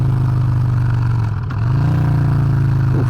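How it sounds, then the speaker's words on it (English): A Honda Fury cruiser motorcycle engine brakes with a loud, steady low rumble and a brief dip midway before the drone resumes, close and alone with no talk. "Oof, a lot of engine braking."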